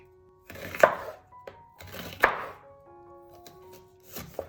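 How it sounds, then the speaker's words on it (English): A knife chops an onion on a cutting board in a few separate bursts of quick, close thunking cuts, with brief pauses between them and no talking. "Okay, so now we're ready to chop the onion."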